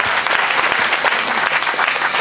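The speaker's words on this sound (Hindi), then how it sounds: "जोरदार तालियां होनी चाहिए।" Dense, steady applause from a large crowd, loud and continuous throughout with no speech.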